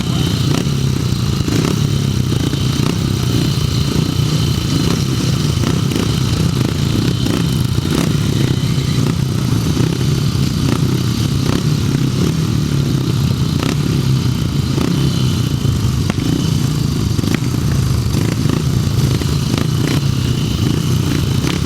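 Several grasstrack racing motorcycles sit at the start grid of an under-21 championship meeting, their engines idling and blipping together in a continuous loud, rumbling drone, with a commentator's voice faintly audible over the noise.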